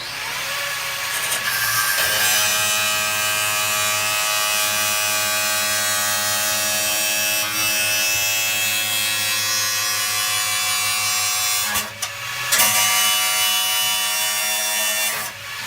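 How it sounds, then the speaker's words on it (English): An angle grinder cutting into a metal panel on a campervan conversion, a loud sustained high-pitched whine with a buzzing motor tone, briefly dipping about three-quarters of the way through before resuming, no talking. "when I'm cutting this with the angle grinder, going very carefully, obviously not to go through the panel"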